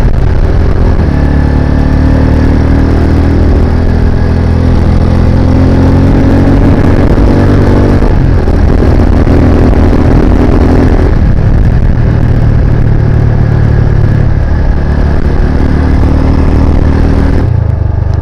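A car engine runs steadily with a turbo-like whine, a loud, continuous mid-range drone with slight rises and dips in pitch, heard alone without talk.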